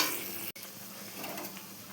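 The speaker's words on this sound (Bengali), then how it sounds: "চলো এবার এক এক করে সব ভেজে নিই" Luchi frying in hot oil gives a close, steady hiss that cuts out for an instant, then resumes and bubbles on at a fairly quiet level, with no talking.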